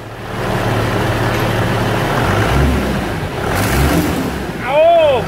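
A Chevrolet Silverado with a rebuilt MWM six-cylinder turbo diesel and a new turbocharger revs hard in a steady loud roar that swells in waves, with a rising whistle near the end and voices speaking in the background.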